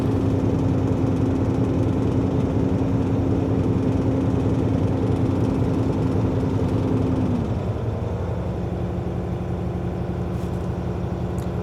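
Truck engine idling steadily while the air compressor builds brake pressure, a constant close drone with a sustained hum that drops in pitch partway through, no talking.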